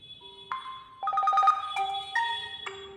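A ringtone preview plays on a Realme C55 phone, sounding as short melodic electronic tones in a stepping sequence over about three seconds, moderately loud with no talking.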